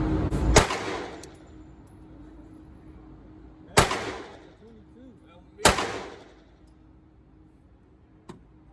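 Three loud rifle gunshots from an AR-style rifle at an outdoor shooting range, sharp single cracks spaced a few seconds apart with a short echoing tail, plus a faint click near the end.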